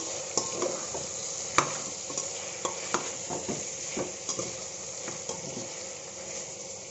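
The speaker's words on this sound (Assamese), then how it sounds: "এতিয়া কাটি ৰখা আলুকেইটুকু মই ইয়াত দি দিম আৰু আকৌ ভালদৰে লৰাই ল'ম।" Potatoes stirred into pork frying in a pan for a pork and bamboo shoot dish: a steady close sizzle with repeated scraping clicks of the spoon against the pan, no talking.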